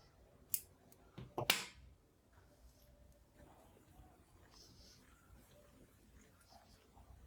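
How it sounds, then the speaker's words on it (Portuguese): Scissors snip viscose crochet thread in two or three quick, crisp cuts close by, followed by quiet handling noise. "a gente já pode cortar"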